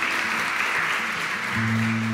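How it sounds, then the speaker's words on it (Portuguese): Steady applause from a church congregation during a worship service, a dense even patter throughout, with a low musical tone entering near the end. "Vamos aplaudir Jesus"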